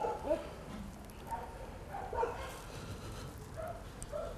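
Dogs in an animal shelter bark and yip in short scattered bursts at moderate distance, with occasional whimpers, over a busy kennel background.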